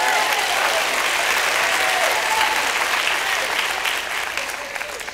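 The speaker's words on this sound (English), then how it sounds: "Let's give Him another hand clap." A church congregation claps steadily, a thick wash of many hands that stays loud and even before thinning slightly toward the end.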